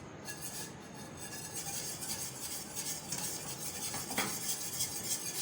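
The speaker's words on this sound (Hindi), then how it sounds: "मुसलसल स्पैचुला या वेस्ट जो भी आप यूज़ कर रहे हैं मुसलसल हिलाते जाएं" A spatula scrapes and stirs milk continuously in a pan as it reduces into condensed milk, a steady soft rubbing and swishing with faint bubbling and no voices.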